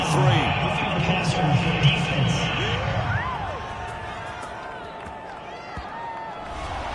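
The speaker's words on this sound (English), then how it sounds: "this crowd does not like that call" Crowd in a PS4 American football video game reacting to a penalty call, a loud, sustained stadium roar that swells and then slowly subsides, with commentators talking over it.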